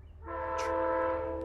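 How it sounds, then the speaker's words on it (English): A passing train sounds its horn, a sustained multi-tone blare rising in quickly and holding steady at moderate distance, with rail rumble underneath and no talk. "a train's going by"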